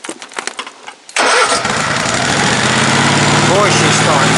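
Homemade ATV engine cranking and catching, after a few quiet sounds it fires abruptly and settles into a loud, steady, close-up idle rumble.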